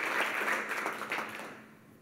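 A church congregation applauds during a bilingual Spanish and English service, a fairly quiet burst of clapping that tapers off within two seconds.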